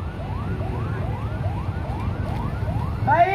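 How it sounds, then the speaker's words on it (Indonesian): Ambulance siren wailing in a steady repeating rise-and-fall cycle during a carnival float parade in Batam, loud and close over a low engine rumble, with a sharper chirp at the end. "Silakan mobil ambulan maju dulu."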